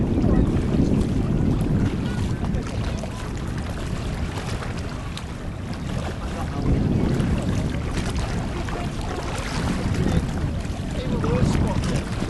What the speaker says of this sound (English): some of the boats starting their engines up on the banks of Lake Macquarie